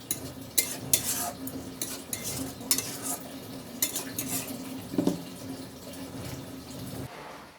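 Egg bhuna curry stirred in a pan, repeated close spoon scrapes and clinks against the metal in an uneven rhythm over a low simmering background, fairly quiet overall.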